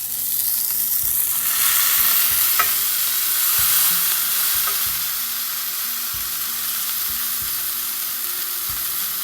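A burger frying in a pan under a small iron skillet pressed on top, giving a steady, loud, close sizzle with faint crackle throughout.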